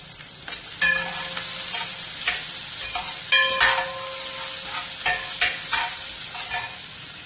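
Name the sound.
onions sautéing in a pan for beef fry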